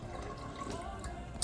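Strained sweetened tea pours gently into a gallon glass jar for kombucha, a soft steady trickle with a small clink near the end.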